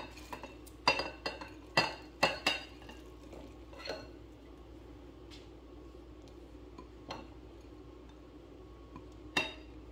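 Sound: stirring leftover rice into rice pudding mixture

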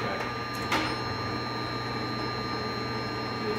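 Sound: Hardinge HLV-H-EM lathe running a threading cut

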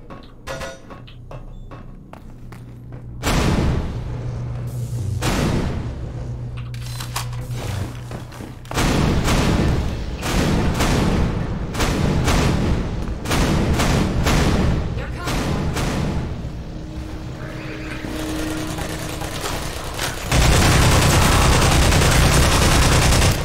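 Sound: sentry turrets firing in video game Half-Life 2

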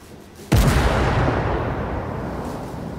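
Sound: tank gun firing in the video game Armored Warfare

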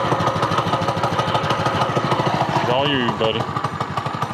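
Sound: amphibious go-kart engine running at throttle

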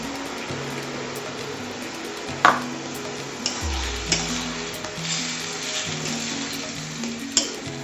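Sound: frying Malabar spinach in a pan

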